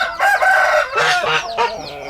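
A young Aseel rooster crows loudly and close by, one strained, broken call in a few ragged bursts with no other sound.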